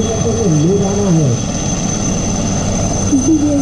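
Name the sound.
military helicopter at an air show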